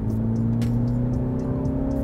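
Mini Cooper S Countryman LCI (2021) exhaust in sport mode, a steady loud engine drone with a constant low hum and faint repeating ticks throughout.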